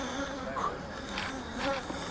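Honey bees buzz around an open, honey-heavy beehive, a steady droning hum close by with individual bees passing nearer and fading off, no talk present.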